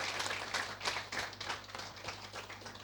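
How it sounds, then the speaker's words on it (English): An audience clapping for a woman at an evening event with an actress, a short burst of scattered applause from a small crowd, moderately quiet and steady for a few seconds, with no speech. "Can we clap for her?"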